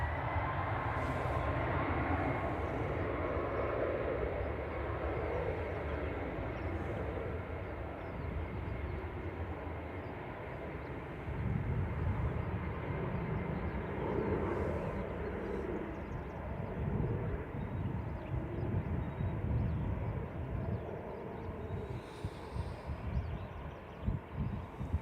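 A Ryanair airliner takes off at Manchester Airport, bound for Tenerife South, producing a broad sustained engine roar heard from a distance that rises and falls gently without stopping, with no talk over it.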